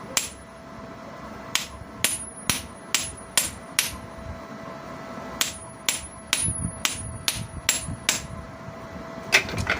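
Sharp metallic hammer blows drive a new 1204 bearing onto the shaft of a double-impeller water pump, about twenty evenly spaced strikes in two bursts, close and loud in a quiet room.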